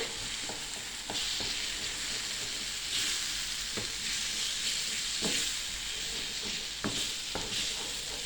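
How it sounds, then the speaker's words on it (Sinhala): Two eggs hit a pan of frying tomatoes for an omelette, with a constant bright sizzle close by and sharp clicks of a utensil stirring at irregular intervals. "මම බිත්තර දෙකක් එකතු කරගන්නවා"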